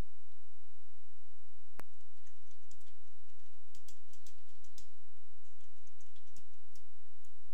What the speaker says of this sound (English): Type in a name for the page